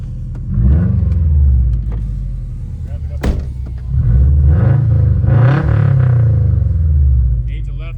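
A Subaru WRX STI with an aftermarket intake, downpipe and tune idles and revs in two strong swells, engine rumble filling the whole stretch while people talk over it close by.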